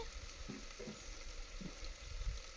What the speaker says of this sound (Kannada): ಜೀರಿಗೆ, ಈರುಳ್ಳಿ, ಟೊಮೊಟೊ ಹಾಗೆ ಕರಿಬೇವು ಸೊಪ್ಪನ್ನು ಸೇರಿಸ್ಕೊಂಡು ಚೆನ್ನಾಗಿ ಫ್ರೈ ಮಾಡ್ಕೊಳ್ಳಿ